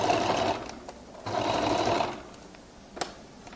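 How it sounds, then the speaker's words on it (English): A sewing machine stitches the seam of a flared skirt in two fairly quiet bursts, each about a second long. A faint click comes near the end. "I roll it open and I now begin to stitch."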